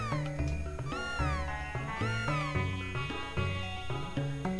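A cat's repeated meows from the Chrono Trigger video game, a string of bright, pitched mews over a busy electronic game music backdrop, with no voices.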